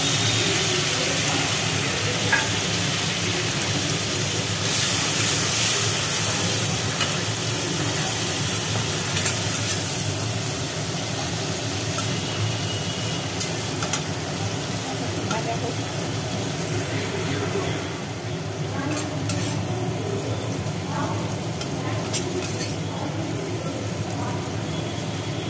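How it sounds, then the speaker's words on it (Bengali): Grated tomato sizzles steadily in hot oil with onion and black cumin, a continuous close frying hiss broken by occasional scrapes of stirring, sustained and even throughout. "টমেটো দেওয়ার পর বেশ কিছুক্ষণ নাড়াচাড়া করে"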